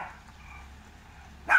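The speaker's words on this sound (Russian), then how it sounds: "Собака. Хорош лаять." A dog gives one short, loud bark at the very end, after quiet household background with faint distant sounds.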